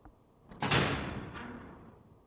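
A heavy sword door in the video game Resident Evil Zero grinds open with a sudden loud scraping rumble that slowly fades into a long, sliding tail, heard alone.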